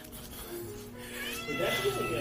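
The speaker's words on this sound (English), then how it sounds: "What if we gaslight Nymeria into stopping to meow?" A pet cat meows indoors, its cries rising over steady background talk and room noise in the second half.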